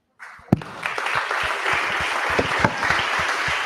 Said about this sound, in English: So I want you to applaud them.